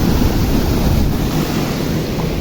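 Glacier meltwater rushes under high pressure near a mountain road, a loud, steady roar of churning water that fills the scene without pause.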